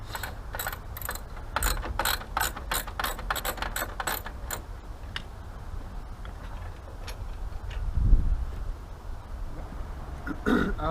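A ratchet rapidly clicks while unscrewing a jam nut on a 1967 Chevy C10, a dense run of close, crisp ticks that slows and fades, followed by quiet shop noise and a low thump.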